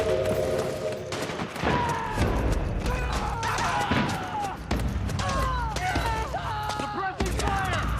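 Gunfire in the PlayStation 3 game Metal Gear Solid 4: Guns of the Patriots, with dense bursts of shots, clanking mechanisms and crashes as a firefight rages, mixed with game music and shouted voices throughout.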